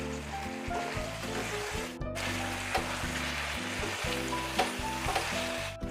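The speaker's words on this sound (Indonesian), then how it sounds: "Saya aduk-aduk lagi supaya tercampur rata." Klotok fish stir-fry, a traditional village dish, sizzles steadily in a pan while a utensil scrapes and stirs it in irregular bursts, close and fairly loud throughout.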